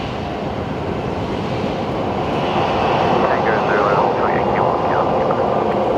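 A Velocity Boeing 737 taxiing at Brisbane Airport: a steady, loud jet engine roar and whine that swells slightly partway through, with a broad wind-like rush and talk underneath.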